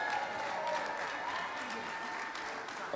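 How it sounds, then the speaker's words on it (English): An audience at the 2020 South Suburban Choir Gala gives a guest a steady round of applause. The clapping is dense and sustained, with crowd murmur and voices mixed in throughout. "Let's have her stand and give her a round of applause."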